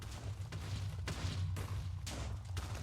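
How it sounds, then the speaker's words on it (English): Stacked TNT minecarts exploding underground in Minecraft: a regular series of muffled booms about every half second, steady and moderately distant over a low droning hum, no talking. "You can feel those explosions"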